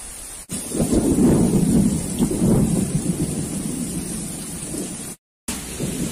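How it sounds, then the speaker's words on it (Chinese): Heavy rain pours steadily during the 2020 Yangtze River flooding in China, with a deep roll of thunder swelling early and fading under the constant downpour, heard from under a footbridge before a brief dropout. "这个雨太大了，一下猛地下起来"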